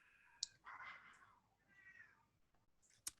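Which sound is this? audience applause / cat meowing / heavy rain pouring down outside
cat meowing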